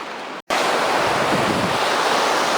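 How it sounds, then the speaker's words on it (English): Rushing water of Reedy Creek in Victoria runs high after rain, a loud, dense, continuous roar close to the microphone with a brief dropout near the start and no talking. "hopefully you can hear me over the water. I'll speak up a bit because it's really raging."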